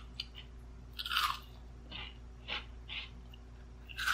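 Crunchy fried enoki mushrooms being chewed up close, several distinct crisp bites and crunches spaced irregularly with soft breathing between, no talking.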